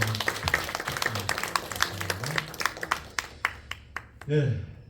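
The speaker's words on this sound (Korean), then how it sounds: "우리 감사와 또 수고의 박수, 격려의 박수." A church congregation claps during a worship service, individual sharp claps building in rhythm under a speaking voice, then tapering off before a brief louder sound at the end.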